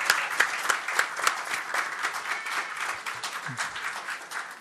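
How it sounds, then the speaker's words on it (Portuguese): Applause during a solemn session honoring a local history program in Osasco, Brazil, a lively burst of clapping with sharp individual claps near the start that gradually softens. "E esse é o nosso amigo Bognar, a qual eu quero dar uma salva de palmas."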